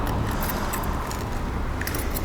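A bunch of motorcycle keys, including spare keys being clipped onto an Alpinestars Andes v3 riding jacket, jangles steadily and close up throughout, with no voices.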